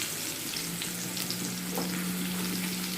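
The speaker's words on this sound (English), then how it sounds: "So just giving the carrots a light fry." Carrots frying in a pan on medium heat for an ackee dish, giving a steady, dense sizzle with faint stirring scrapes, close and continuous, with no talking.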